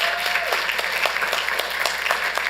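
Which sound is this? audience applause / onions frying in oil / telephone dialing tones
audience applause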